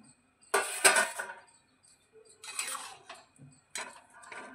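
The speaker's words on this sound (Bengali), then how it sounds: "এবারে আমরা ঢাকাটা খুলে নিচ্ছি।" A metal lid comes off a cooking pot of daliya khichuri, broken-wheat khichdi. Close clanks, scrapes and clinks arrive in three short bursts with brief quiet gaps between them, and no one speaks.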